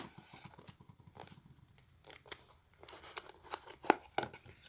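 Tape being pulled and torn while making a paper kusarigama: close, quiet crinkling and sticky ripping sounds, irregular short tears and rustles with a few sharper snaps near the end.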